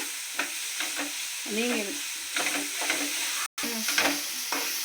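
Ginger and garlic sauté in a hot pan for a jackfruit-seed chicken gravy, giving a steady close sizzle broken by several scraping spatula strokes, with a brief dropout midway.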